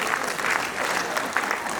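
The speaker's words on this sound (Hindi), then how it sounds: "लेट आने वाले लोगों के लिए भी मैं चाहता हूं जोरदार तालियां।" Applause from the audience at an Indian poetry gathering (kavi sammelan): steady, dense clapping that holds evenly for the whole span, full and close with no pauses or talk over it.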